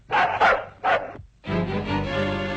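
A dog gives three sharp barks close by, then a drawn-out whining, howling tone.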